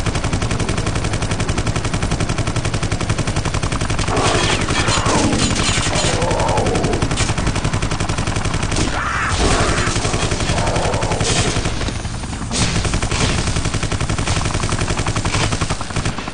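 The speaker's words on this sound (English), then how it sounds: "I was just here shooting at these guys" Loud, sustained gunfire from shooting at enemies in the video game Vivisector, dense bursts running nearly the whole time over a constant rumbling game soundscape.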